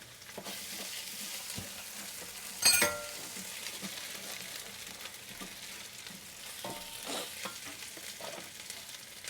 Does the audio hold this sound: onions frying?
yes